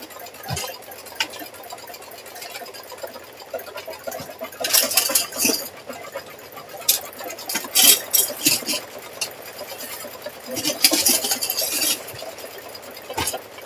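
An embroidery machine stitches a keychain in the hoop, giving off a steady run of light ticking and clicking with brief louder clattery bursts, close by with no talk.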